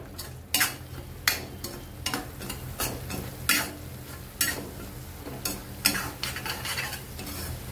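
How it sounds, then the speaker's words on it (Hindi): Garam masala and turmeric sautéed in oil for paneer bhaji, stirred steadily with a utensil scraping the pan in repeated sharp strokes over a continuous low sizzle, close and fairly loud, no talking. "चांगलं परतून घ्या तेल सुटेपर्यंत"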